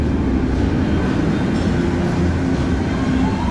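FLY flying roller coaster train at Phantasialand riding with passengers in the front row, a steady loud rumbling roar of wheels and wind throughout, no voices.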